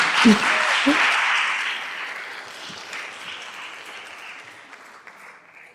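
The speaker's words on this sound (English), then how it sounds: "another round of applause for my mom" Applause from a theatre audience at a dramatic performance swells briefly, then gradually thins and fades away over several seconds, with scattered voices under the tail.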